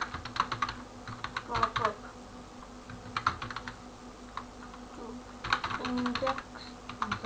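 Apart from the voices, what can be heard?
typing on a computer keyboard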